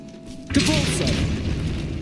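A Capulso spell goes off in Hogwarts Legacy after a quiet lead-in, a sudden bright magical burst with a sweeping whoosh and a sustained shimmering rumble that lingers loudly to the end.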